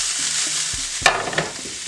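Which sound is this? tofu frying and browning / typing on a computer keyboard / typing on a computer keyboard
tofu frying and browning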